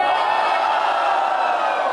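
A rap battle audience cheers for Big Mike's rhymes in a steady, loud roar of shouts and whoops, holding at an even level without pause.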